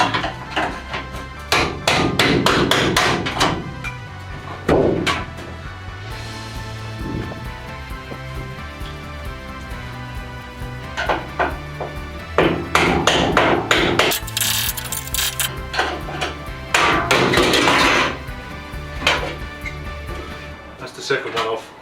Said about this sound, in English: I just went ahead and got myself an old screwdriver that I use for just banging things in and out with